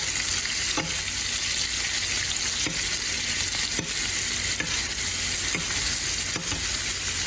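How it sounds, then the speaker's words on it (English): Striped bass fillets sizzle in a pan of unsalted butter while being basted, a loud, dense, continuous frying hiss with regular soft scrapes and splashes of spooned butter, close and alone without voices. "we're gonna start basting the fillets with the butter"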